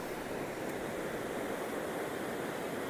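River rapids swollen after heavy rain and floods, a dense, steady roar of rushing water heard close and constant with no breaks.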